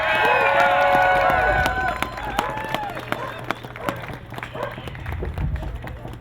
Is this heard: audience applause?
yes